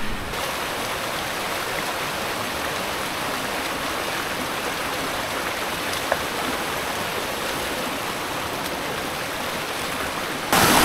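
A river stream near Seloresi waterfall in the southern Lawu valley, Wonogiri, rushes with a constant dense wash of water, loud and close, with no voices over it.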